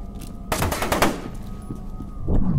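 Shotgun fire in the first-person shooter video game FEAR 2: a loud, close blast followed by a short burst of further shots and rumbling echo, then another rising thump near the end.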